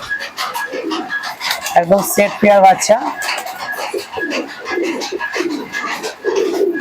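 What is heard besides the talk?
pigeons cooing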